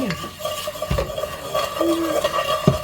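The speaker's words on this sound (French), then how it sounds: "Une cuillère en bois, nettoyée, lavée." A wooden spoon stirring in a pan of veal sauté with olives, soft scraping and clinking strokes with a light sizzle underneath, close and steady.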